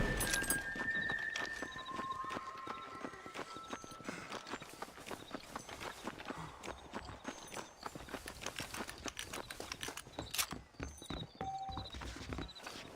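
Horse hooves clip-clop in a rapid, continuous rhythm in Red Dead Redemption, with faint whinnies and a couple of tonal game sounds over the steady trotting.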